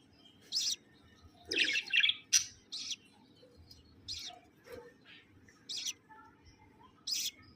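Budgerigars chirp while a mother bird feeds her chick, with short high tweets and squeaky calls coming in scattered bursts, fairly faint against a quiet room background.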